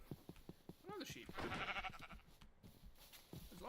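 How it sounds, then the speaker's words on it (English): Sheep in a video game bleating in several wavering calls, faint and close together, with a person talking over them. "Another sheep."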